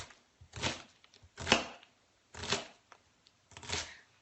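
A knife chopping through a small onion on a cutting board, heard as four separate bursts of crisp, fairly close cuts with short quiet pauses between them.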